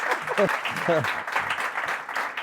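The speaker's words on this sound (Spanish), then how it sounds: "un aplauso por favor para Carlos" Audience applause for Carlos, a guest doing celebrity impressions on a podcast, a steady clatter of clapping running throughout with a voice speaking over it.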